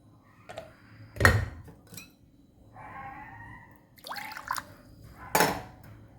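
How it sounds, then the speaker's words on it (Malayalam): Water poured into freshly extracted juice to thin it for homemade pani puri, with short splashing and liquid bursts and a few clinks of a vessel in a quiet kitchen. "ആവശ്യത്തിന് അല്പം കൂടെ വെള്ളം ഒഴിച്ച് അതൊന്ന് ഡൈല്യൂട്ട് ചെയ്ത് എടുക്കാം."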